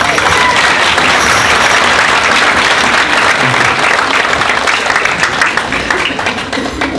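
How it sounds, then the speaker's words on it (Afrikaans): A church congregation at an Easter service claps for Jesus, loud, dense applause sustained for about seven seconds before gradually thinning out. "Dis Jesus, kom ons gee hom 'n hande klap."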